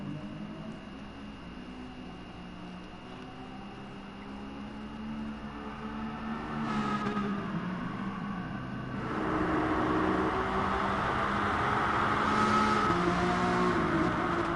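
A race car engine in Gran Turismo Sport drones steadily and grows louder, with rising revs partway through and a hum running underneath.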